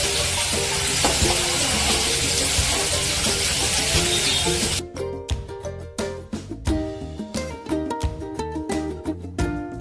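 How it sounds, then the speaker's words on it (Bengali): Ginger paste and tomato sizzle loudly with spices in a pan for a bhindi masala. A steady close hiss lasts about five seconds, then gives way to quick irregular clicking and ticking. "মশলার কাঁচা গন্ধটা যাওয়া পর্যন্ত আমি এগুলোকে ভালো করে কষে নেব।"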